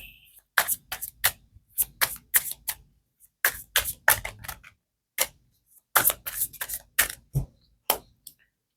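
Tarot cards are shuffled by hand close up, making clusters of crisp, papery flicks and taps in irregular bursts separated by brief pauses, with no voices.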